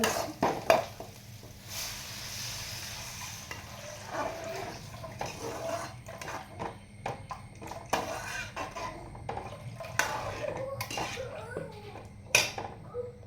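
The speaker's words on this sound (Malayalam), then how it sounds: "നമ്മുടെ സവാളയും പച്ചമുളകും എല്ലാം നല്ല വഴന്ന് വന്നിട്ടുണ്ട്" Onions and green chillies sauté in a pan with a continuous close sizzle, broken by repeated stirring scrapes and light clinks of utensil on metal.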